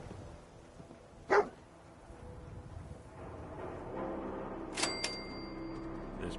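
Dogmeat, the dog companion in Fallout 4, lets out a single sharp bark against quiet game ambience, followed later by faint background game sounds.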